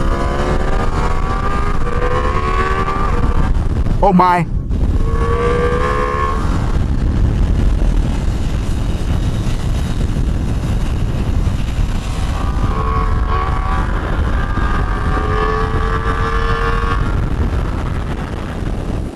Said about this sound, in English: when you grab the throttle, it screams